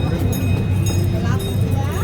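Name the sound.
quarter-scale replica of the 1893 Huntington train running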